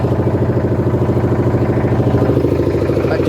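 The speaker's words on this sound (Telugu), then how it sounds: "ఇది ఇంజన్ సౌండ్ బాగా పడుతుంది మీకు" A boat engine chugs on the Ganges at Varanasi near Manikarnika Ghat, a loud, close, steady rhythmic clatter that runs unbroken with no voices.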